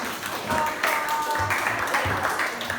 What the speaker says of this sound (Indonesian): Kasih tepuk tangan dulu untuk